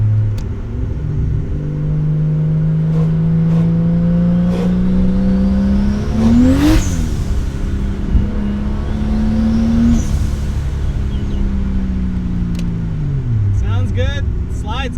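Toyota MK4 Supra A80 turbo driven hard on a test drive, engine note climbing through revs, peaking, easing and climbing again with tyre-sliding moments, loud and close from inside with voices talking over it.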